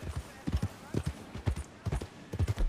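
Hooves clip-clop at a steady walking pace in Red Dead Redemption 2, close and moderately loud, with a faint voice in the background.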